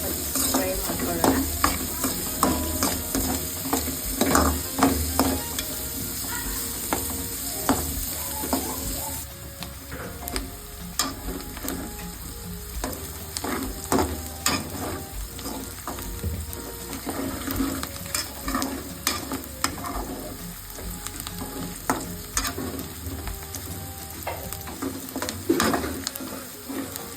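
Onions fry in a pan for a spicy soya chunks masala, a steady crackling sizzle broken by frequent clicks and scrapes of stirring throughout, close and moderately loud with no voices.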